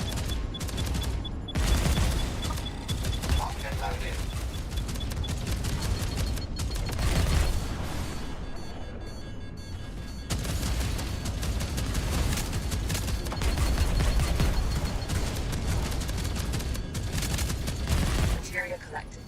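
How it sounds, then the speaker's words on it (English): Many missiles launching and striking during a space battle in a video game, a dense continuous barrage of rapid bursts, booms and mechanical clatter lasting the whole stretch, with a voice talking underneath. "Lots of missiles."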